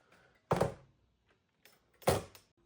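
Two solid thuds about a second and a half apart as the doors of a DIY pressure-washer cart are shut, close and fairly loud with quiet between.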